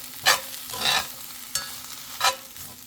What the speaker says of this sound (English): Mix it into my fresh spinach as well as my onions.